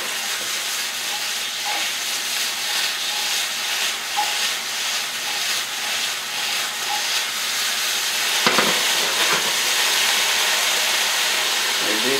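Honey-glazed carrots sizzle in a pan with a steady, even hiss that grows slightly louder and busier in the last few seconds, with no talking over it.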